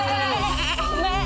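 Women imitate goat bleating in a house game task, a loud, sustained wavering bleat with several voices overlapping.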